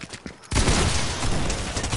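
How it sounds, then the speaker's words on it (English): Sudden onset of dense, sustained gunfire in the battle royale game Fortnite, loud and continuous after a brief quieter moment at the start. "Who's shooting?"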